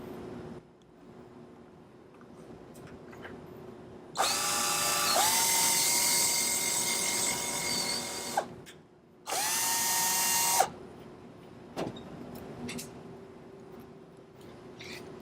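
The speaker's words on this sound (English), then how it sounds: "Take this drill over here," A power drill drives screws into a wooden bumblebee house in two bursts of high whirring, the first long and rising as the screw seats, the second shorter, with quiet handling noise between.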